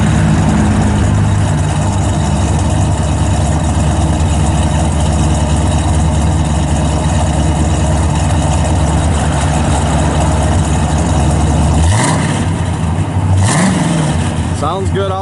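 A 1967 Pontiac GTO with dual exhaust and a 400 turbo transmission idles with a low, steady rumble close by. Near the end a couple of quick throttle blips rise over it, and a voice talks over the engine.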